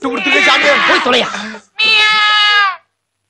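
A man imitates a cat, producing two drawn-out, wavering meow-like cries with a short gap between them, loud and close.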